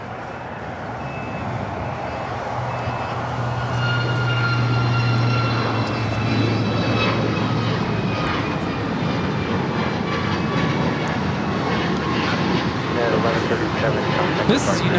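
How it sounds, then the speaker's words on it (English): A United Airlines Boeing 737 MAX 8 takes off from LAX bound for Guatemala City, a broad rising jet roar that holds throughout, with faint beeping and other airport noise mixed in. "This is United Airlines 1137 taking off to Guatemala City on the MAX 8."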